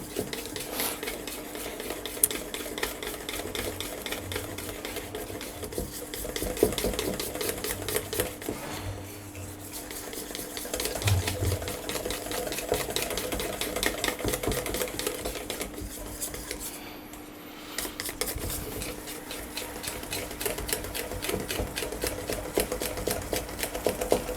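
A whisk beats pancake batter in a bowl with a fast, steady rhythm of close clicking strokes, briefly easing off before picking back up, with no talk over it.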